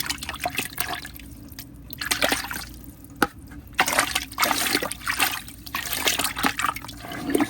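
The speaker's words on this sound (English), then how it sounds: "So you stir it up, make sure there's no air bubbles that stick to the sand." Black aquarium sand is stirred in water with a hand, giving close, uneven sloshing and trickling swirls in irregular bursts, plus one sharp click midway, with no speech.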